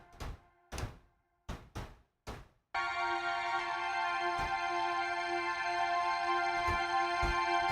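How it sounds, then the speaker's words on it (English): Mellotron-style patch from Omnisphere, preceded by five dull knocks or thunks in a row, then a sustained tonal keyboard chord enters and holds steady for several seconds while a few more faint taps land over it. "Oh, this is like a Mellotron sound from Omnisphere"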